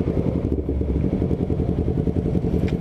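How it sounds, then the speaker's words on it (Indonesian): Honda CBR250RR fitted with an R9 GP Series exhaust idling close by: a steady, even low-pitched rumble with a rapid pulsing beat, moderately loud and without talk. "kalau kalian pengen denger idolnya pun nggak enak banget, tapi nggak berisik banget sih"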